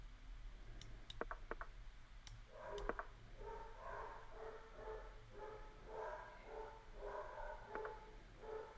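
Dogs barking indoors in a house, a rapid run of muffled, fairly distant barks repeating in clusters, with a few sharp clicks early on.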